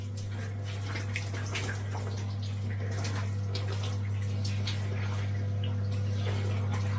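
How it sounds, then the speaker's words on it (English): Cold shower water running, a close, continuous splashing hiss over a steady low hum, with irregular spatters as the flow hits a body and surfaces; no speech. "That's the shower not warmed up yet."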